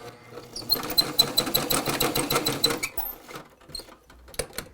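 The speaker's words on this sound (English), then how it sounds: "And then again you sew over that." A sewing machine stitches a fabric face mask in a quick rapid-fire run of needle strokes for about two seconds, then slows and stops with a few scattered clicks, close and fairly quiet.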